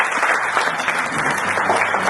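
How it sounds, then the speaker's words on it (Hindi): A crowd at a leadership kickoff session in Jaipur breaks into loud, dense applause to welcome a speaker to the stage. The clapping is close and continuous throughout. "तो मैं आप सबकी जोरदार तालियों के साथ उदय सिंह जी को इन्वाइट करूंगा"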